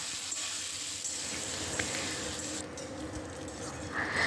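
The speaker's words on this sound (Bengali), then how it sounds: "সাদা জিরে ফোড়ন, শুকনো লঙ্কা দিয়ে আলুটাকেও আমি ভেজে নেবো ভালো মতন লাল লাল করে" Potato pieces frying in hot oil in a wok along with cumin seeds and dried red chillies, a steady close sizzle that holds throughout and grows slightly louder near the end.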